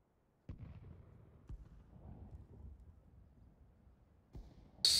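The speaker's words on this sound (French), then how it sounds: "J'ai lancé une grenade sur le corps de Baptiste et ça fait un point de dégâts" A grenade goes off in a video game, heard as a muffled boom followed by a low rumble and a couple of further dull thuds, fairly quiet, closing with a sharp bright burst.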